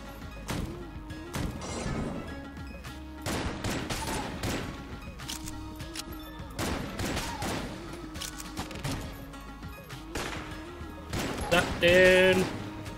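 Shotgun blasts from the video game Enter the Gungeon, a string of sharp booming shots with crashing impacts layered over game music, loud and irregular, with a sharper burst near the end.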